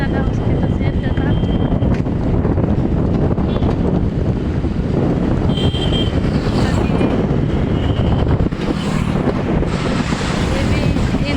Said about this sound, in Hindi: बहुत ज़्यादा हवा चल रहा है आई नो